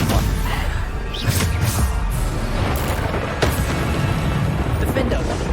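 Bombarda blast spells erupt in Hogwarts Legacy on PS5 as several loud, sharp crashes and booms land over a busy fight, with voices heard throughout.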